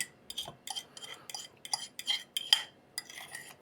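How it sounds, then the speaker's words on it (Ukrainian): Metal utensil scraping and clinking against a bowl while stirring margarine into a cookie dough mixture, a series of short irregular scrapes close by with no talking. "І перемішуємо."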